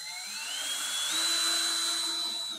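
A power drill drives a screw into a truck bed divider for a Ford Maverick, a steady close whine that rises in pitch over a couple of seconds and then holds, with no talking.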